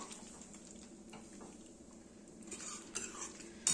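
Egg curry being stirred as it fries in a pan, a soft steady sizzle with light scraping of the spoon against the pan and a couple of louder clinks near the end.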